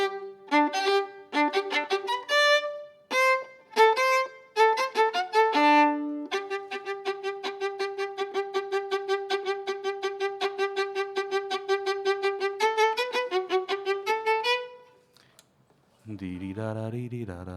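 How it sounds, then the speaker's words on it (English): A Western instrument plays a cello line two octaves above its written pitch, a clear solo melody of sustained tones and quick repeated notes, ending with a brief lower passage. "the cello part, I'll play it once, even though it's 2 octaves below my instrument."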